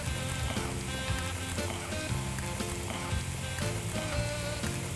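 Pieces of ham fry in a pan, a steady dense sizzle and crackle that runs unbroken and fairly loud with no talking.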